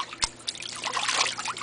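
A baby splashes water in a small baby pool, with a sharp slap followed by a continuous run of close, bright splashing and trickling.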